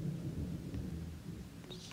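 Thunder rolls through a spooky Roblox game, a low rumbling swell over steady rain that fades in the middle, with brief faint clicks near the end and no talking.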